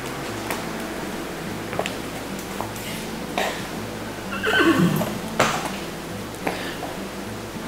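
A horse walks away and back during a lameness and gait check, its hooves landing as a few soft, spaced thuds. A loud whinny rises in the middle of the steady walking.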